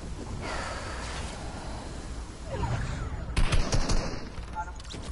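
Assault rifle fire in Fortnite: bursts of rapid shots rise out of a noisy game mix, loudest and most clustered toward the end, with a voice heard faintly beneath.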